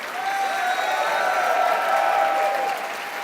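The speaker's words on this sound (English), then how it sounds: "round of applause for Shea and Wolf, our guests of honour" Applause from an event audience for two guests of honour at a convention closing ceremony, a steady wash of clapping lasting a few seconds at moderate level before thinning slightly at the end, with faint tonal feedback underneath.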